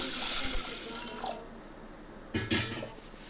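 Chana dal is rinsed in water in a bowl, with soft sloshing and a couple of brief splashy swishes near the end, fairly quiet and close.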